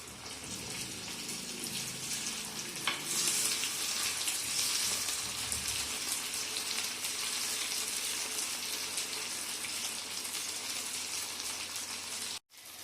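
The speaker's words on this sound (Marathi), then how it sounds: "आता ह्याच्यावरच आपण झाकण काढून घेऊया आणि त्यांना असे गोल परतवून घ्यायचे" Sabudana vada shallow-frying in an appe pan gives off a steady, dense sizzle that hisses continuously and sounds almost like running water, then cuts out briefly near the end.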